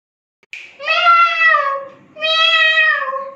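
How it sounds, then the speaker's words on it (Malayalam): A cat gives two drawn-out meows in quick succession, loud and close against a silent background, the second following a short pause. "മിയാ മിയാ പൂച്ചക്കുട്ടി, യേശുവിനെ കണ്ടോ?"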